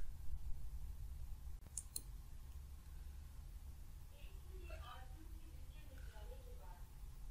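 A computer mouse clicks a couple of times, sharp and brief, over steady low background noise, with faint voice-like sounds later.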